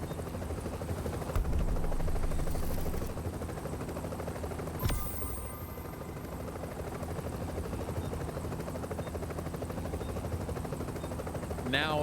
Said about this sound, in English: Once you're in the helicopter, you're done.